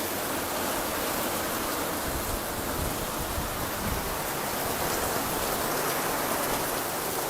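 Steady rain pattering on surfaces, a dense continuous hiss of drops with no voices.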